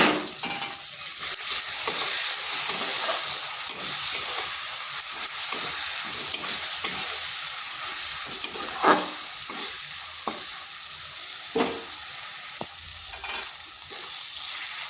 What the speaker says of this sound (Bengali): একটু মশলাটা কষে নিচ্ছে। এরপর এখানে দিচ্ছি একটা টমেটোকে পেস্ট করে রেখেছিলাম।